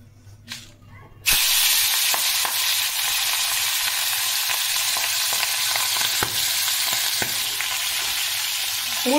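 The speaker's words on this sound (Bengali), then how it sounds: "মুড়োটা লাল করে ভেজে নিয়েছি" A boal fish head frying in hot oil in a wok, a loud continuous sizzle and hiss that bursts in after a quiet start, with a few faint utensil clinks.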